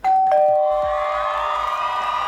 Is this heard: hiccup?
no